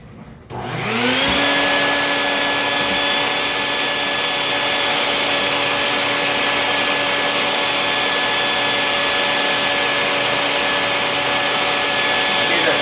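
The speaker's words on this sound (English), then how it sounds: "Vacuum some of this up real quick." A vacuum cleaner sucks up debris while a Jura coffee machine's brew unit is serviced. The motor spins up with a rising whine, then holds a loud, steady roar with a sustained tonal hum.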